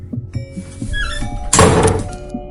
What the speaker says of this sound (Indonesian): pintu besi itu nutup sendiri keras banget